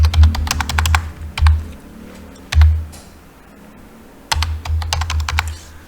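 Bursts of typing on a computer keyboard as a price figure is entered, with quick clustered key clicks separated by short pauses and a low hum underneath.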